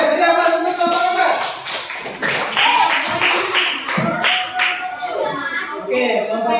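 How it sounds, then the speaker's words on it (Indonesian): Applause fills a classroom as students clap for a presenting group, steady dense clapping with voices mixed in throughout. "Oke, beri aplaus untuk kelompok 4."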